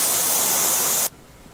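Cold gas hisses from a KaasenLi cryosculpting cryotherapy device in a steady, loud, broadband spray for about a second, then cuts off abruptly, leaving faint room tone.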